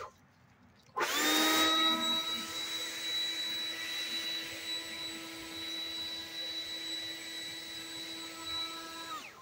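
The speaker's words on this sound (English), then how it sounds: "this is the more powerful of the Stihl blowers" Stihl BGA 60 battery-powered leaf blower kicks on after a second of quiet, a loud high whooshing whine that settles into a steady, slightly easing roar.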